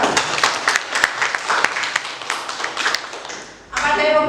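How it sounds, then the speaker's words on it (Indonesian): Classroom audience at a school economics presentation applauds a presenting group, a burst of scattered hand claps that thins out, then a sudden louder rush of noise near the end. "Ya, beri tepuk tangan untuk kelompok"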